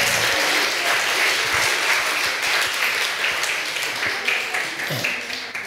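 A church congregation at a revival service applauds together, a dense sustained wash of clapping that fills the whole stretch and tapers slightly near the end.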